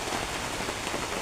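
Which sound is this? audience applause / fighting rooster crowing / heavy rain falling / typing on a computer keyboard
heavy rain falling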